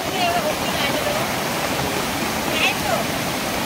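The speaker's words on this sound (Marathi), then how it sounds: "पाटाचं झुळझुळ पाणी जातंय धबधब्या खाली" Murmuring stream water flowing below a waterfall by a village creek, a steady broadband rush with no break, close and fairly loud.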